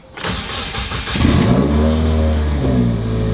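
A Subaru WRX FA20 engine starts with a brief crank, then settles into a loud, steady rumble with a revving rise, close by and alone.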